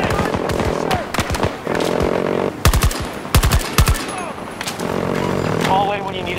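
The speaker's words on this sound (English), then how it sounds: "automatic weapon!" Automatic weapon fire in the video game Battlefield 2042, with rapid bursts of gunshots, some of them heavy and close, mixed with explosions and busy battlefield noise over a constant loud din.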